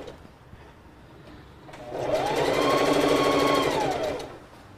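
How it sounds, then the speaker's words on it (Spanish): A sewing machine runs a seam along fabric, starting after a short pause and whirring steadily for about two seconds before slowing to a stop, close and loud with no speech. "Entonces vamos una vez a coser para pasarle over."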